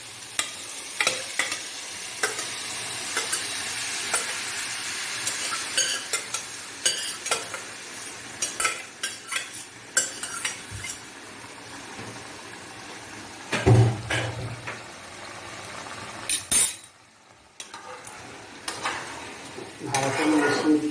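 Boiled dal being stirred into a pan of frying egg tadka, with sizzling, spoon scrapes and clinks against the pan throughout, close and fairly loud, with one brief pause.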